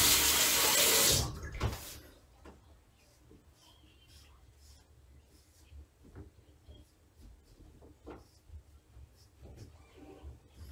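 Bathroom tap runs loudly for just over a second during rinsing after shaving, then shuts off, followed by faint splashing, dripping and small handling sounds close by.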